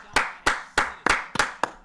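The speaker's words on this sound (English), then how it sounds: "Round of applause." Audience clapping at a talent show: a few loud, close, slightly uneven hand claps in a steady rhythm, with no talk over them.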